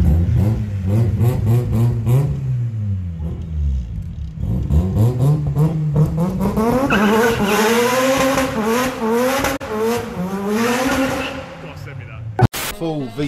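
A time attack Mazda RX7 revs and pulls away on city streets, its engine note rising and falling loudly and continuously, with a sharp bang near the end.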